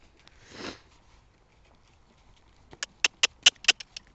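A pony's hooves clip-clop in a short quick run of sharp strikes at a canter, fairly close, after a brief rustle and quiet.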